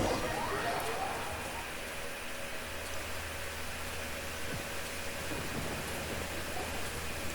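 Steady rain falls as a continuous, even hiss of moderate loudness, unbroken throughout.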